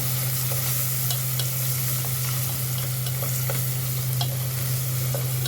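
Onions frying in freshly added oil, a loud continuous close sizzle with crackles scattered throughout over a constant low hum, no voices.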